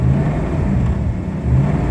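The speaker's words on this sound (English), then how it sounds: "If I rev the engine up" A Ford Mustang engine revs up close by, a loud steady mid-pitched rumble that swells and eases over two seconds.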